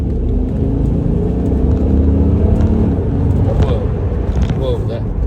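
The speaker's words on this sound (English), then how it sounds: "Here's our little fun little tunnel. Give some gas." A 2001 Bentley Arnage Turbo Red Label accelerates through a road tunnel, a steady low engine rumble and road roar filling the space, loud and close throughout with a rising surge near the end.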